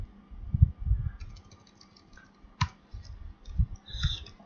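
Quiet clicking keystrokes on a computer keyboard while C code is typed, irregular taps and short bursts close by with no talk over them.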